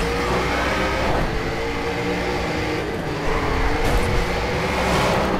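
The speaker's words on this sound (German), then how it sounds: "Gib mal ein bisschen Gas hier" A race car engine in Race Driver GRID roars loudly and continuously, revving and pulling hard under acceleration with dense, sustained mechanical noise.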